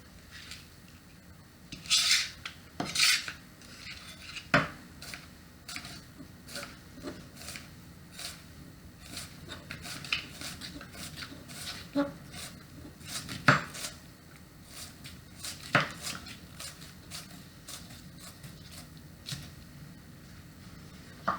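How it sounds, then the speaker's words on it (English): A knife slices white onion on a board in a long series of light, irregular cutting taps, close and moderately quiet, with occasional brighter clinks of the blade. "we're going to just slice up a little bit of white onion"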